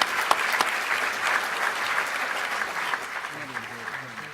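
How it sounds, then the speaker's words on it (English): A lecture audience applauds an aviation speaker after his talk, a dense wash of many hands clapping steadily at moderate distance, with a faint voice murmuring near the end. "Could we have one more round of applause for Mike Boyd"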